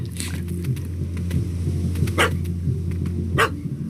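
A dog barks in The Witcher 3 video game, two or three sharp barks spaced across the moment over a low droning game ambience.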